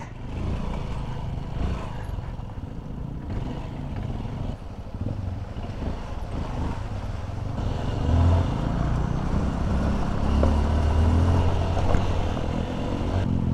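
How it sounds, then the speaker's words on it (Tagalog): Road traffic near the Coto Mines checkpoint in Masinloc, Zambales: a constant low rumble of passing cars and motorcycles mixed with wind buffeting the microphone, heard from inside or near a moving vehicle. "Traffic."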